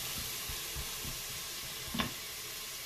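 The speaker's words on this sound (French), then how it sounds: "Hop, on va faire revenir les lardons." Bacon lardons frying in a pan before venison is added, a soft steady sizzle with a few low stirring knocks and one brief sharper scrape near the end, no voices.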